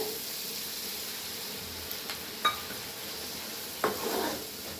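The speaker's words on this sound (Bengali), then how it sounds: "ভালো করে কষিয়ে নেব মশলাটা" Spice masala of chili powder and cumin sautéing in oil in a pan for a spicy tangra fish curry, a soft steady sizzle with occasional brief stirring clinks and scrapes.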